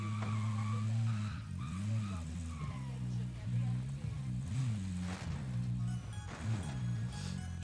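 A car in a video game skids and drives with squealing tires over a low engine drone, loud and continuous, while a player talks over it.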